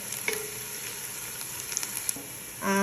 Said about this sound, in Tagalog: Nilagyan ko na siya ng konting oil at ilagay ko na yung garlic, onion